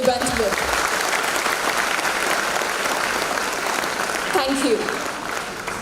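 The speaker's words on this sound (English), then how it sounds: "Shall we have a big round of applause to begin the event with?" Sustained applause from an audience at the opening of an academic awards ceremony, a dense steady wash of clapping with brief voices at the start and near the end.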